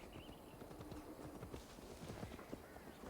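Horse hooves clip-clop steadily in a video game, an uneven run of close, moderately loud thuds over a dense ambient bed with no talking.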